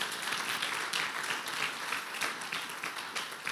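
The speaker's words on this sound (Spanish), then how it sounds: "dale un aplauso al Señor" A church congregation gives the Lord a round of applause at a Spanish-language service, with dense, even clapping that fills the whole stretch at moderate level and no voice above it.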